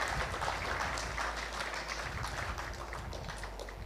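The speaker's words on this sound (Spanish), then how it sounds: "dele fuerte el aplauso al Rey" Church congregation applauding steadily throughout, a dense continuous wash of clapping with a low rumble underneath and no clear voices.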